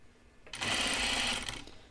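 A sewing machine runs a short, steady burst while stitching a seam on a 1940s-style dress, a loud close whirring hum that starts abruptly, holds for about a second, then stops.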